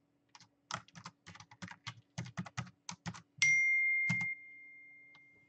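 Password being typed on a computer keyboard: a quick run of close, crisp keystrokes followed by a bright chime that rings and slowly fades.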